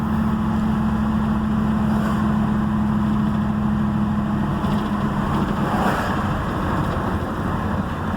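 A steady, loud engine drone with a firm low hum from an LS V8 swapped into a Chevrolet S10 pickup, running at about 1600 RPM, holding constant with no voices.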